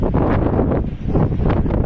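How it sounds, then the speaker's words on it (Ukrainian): Strong wind buffets the microphone outdoors near water, a continuous loud rumbling roar with gusting surges that never lets up. "сьогодні вітер такий, що здуріти можна"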